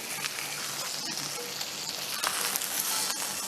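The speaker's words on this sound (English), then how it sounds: "I'll pan sear it for a while" Stuffed chicken filled with three cheeses and spinach sears in a hot pan with a steady, close hiss of frying fat, bright crackles and spits running continuously throughout.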